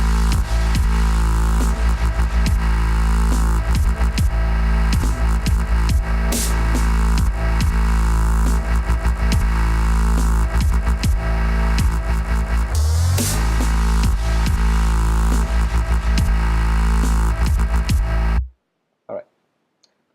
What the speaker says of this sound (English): how to make the really violent bass, the really dirty one